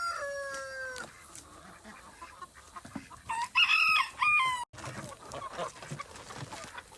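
Chickens on a family farm in the evening, with a rooster crowing and hens clucking at moderate distance, clearer bursts midway and faint rustling around them.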